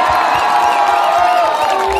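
Brazil fans in a crowd at an annual day gathering cheer loudly with shouts and whoops, a steady, dense roar of voices with some clapping mixed in over two seconds.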